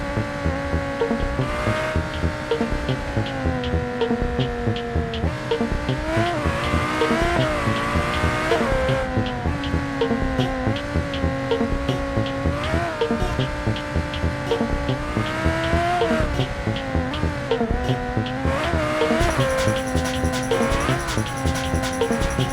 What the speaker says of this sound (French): avec un moteur V10 comme ça, on peut pas se permettre de rouler de même